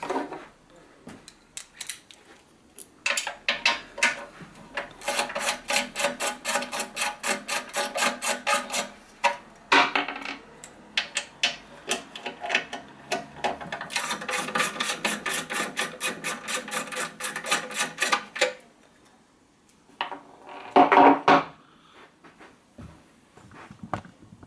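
Fastenings on the fuel tank of a Honda GX160 small engine being undone by hand, quiet ratcheting clicks in long rapid runs with brief gaps and a few louder metallic knocks near the end.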